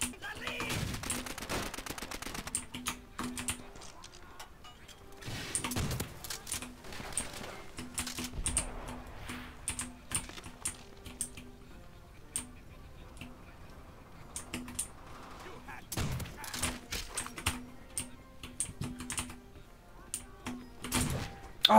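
Trench gun shotgun fire in Call of Duty: World at War multiplayer, several sharp loud blasts spaced apart among steady computer keyboard clatter, with players talking at times.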